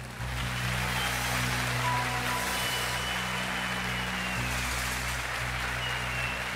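Studio audience applause on the Turkish talk show Beyaz Show, a dense, continuous wash of clapping held at a steady level for several seconds over a low background hum.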